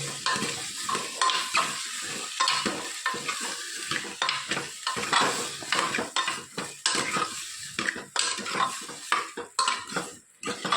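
A spoon stirs and mixes food in a frying pan, scraping and clinking in quick, uneven strokes over a soft sizzle, close and moderately loud throughout, with no talking.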